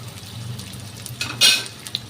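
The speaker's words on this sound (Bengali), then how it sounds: "পেঁয়াজটা ভাজা ভাজা হোক" Onions frying and being stirred in oil in a home kitchen for a Bengali dried-fish dish, a soft steady sizzle with a louder scraping stir burst near the end and a faint utensil clink.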